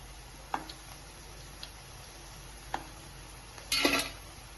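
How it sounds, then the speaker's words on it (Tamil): Crispy ragi onion pakoda lifted from hot frying oil, with a few faint scattered ticks and clinks followed by a short, louder burst of sizzle and crackle near the end. "பாருங்க, எடுக்கும் போதே நமக்கு அந்த கிறிஸ்பி சவுண்ட் நல்லா கேக்குது."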